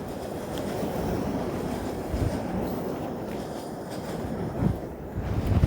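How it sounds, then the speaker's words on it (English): A train rolls past in Toronto's Junction Triangle on a cold February walk, giving a steady, continuous low rumble with some wind buffeting throughout and a few heavier thumps. "And I heard that train go by"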